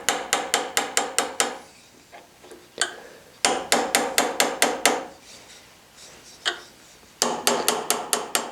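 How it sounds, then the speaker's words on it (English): Rapid series of sharp metallic taps as a lightweight hammer strikes a small sharp-edged crowbar, in three bursts, close and loud, with a few scattered knocks during the pauses. "I'm gonna use this sharp edged small crowbar and lightweight hammer"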